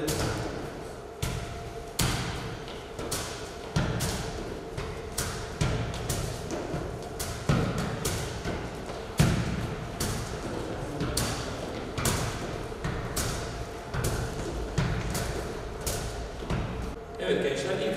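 A football kicked with the top of the foot during home exercise training, producing repeated dull thumps at a steady rhythm, with someone talking over the kicks throughout.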